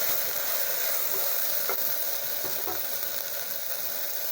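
Mint leaves with salt are sautéed in a pan for pattani rice, a steady close sizzle and hiss with a few faint stirring scrapes.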